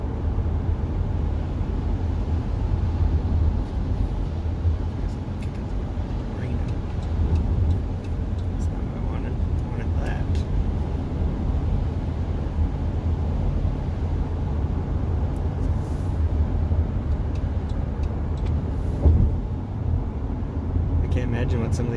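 A rental van drives along a road through the Arkansas hills at about the speed limit, giving a steady, fairly loud engine and road rumble from inside the cabin with little change in level.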